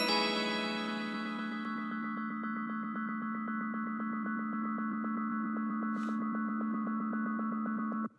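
A melody fed through a delay with feedback above 100% becomes a sustained, ringing tone that swells from an initial burst into a dense, repeating shimmer, holding steady without fading, then cuts off abruptly.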